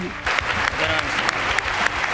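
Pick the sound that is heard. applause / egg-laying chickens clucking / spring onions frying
applause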